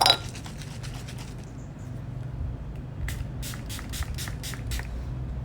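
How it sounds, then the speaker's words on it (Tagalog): A Careline Fresh Fix makeup setting spray is shaken, then pumped in a rapid run of short, sharp hissing sprays over a steady low background hum. "Ito nga pala ang favorite ko na setting spray from Careline Fresh Fix."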